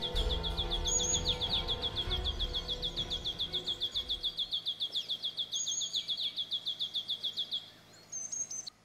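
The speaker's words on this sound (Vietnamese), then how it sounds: "Các loài chim thường bắt đầu cất tiếng hót từ sáng sớm" Tropical birds sing in the early morning: one bird repeats a rapid, high, even chirping trill close by, with occasional higher calls from others and a faint insect buzz and low rumble in the background early on.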